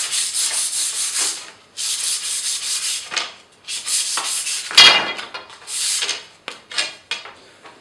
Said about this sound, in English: With some coarse sandpaper, I'm going to score the blank only where the handle kit is